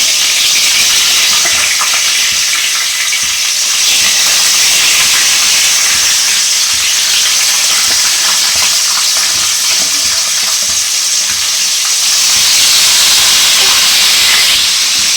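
Fish heads frying in hot oil in a wok, a loud, continuous close sizzle and hiss with faint spattering, steady throughout and with no one talking.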